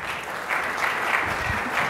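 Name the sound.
audience applause for a conference panel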